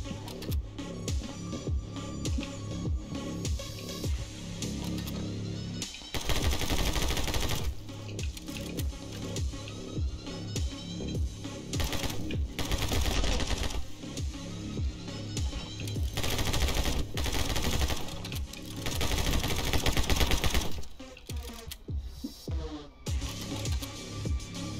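Gunfire in the My Friend Pedro video game, rapid bursts of shots repeating in loud clusters over a backing music track, with several heavier volleys standing out.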